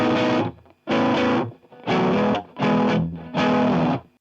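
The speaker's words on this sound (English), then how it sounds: "And then overdrive is a bit on the darker side." Electric guitar run through an overdrive pedal plugin in Ableton, a darker-toned drive: five sustained distorted chords strummed one after another, each ringing about half a second with short gaps, loud and close.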